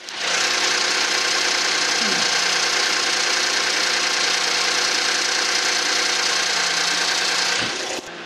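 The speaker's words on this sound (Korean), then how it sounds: "엔진 소리 한번 들어볼게요." A Hyundai Genesis DH with a V6 GDI engine idles with its hood open, a steady close ticking hum with fine rapid clatter, continuous and even before a brief dip at the end.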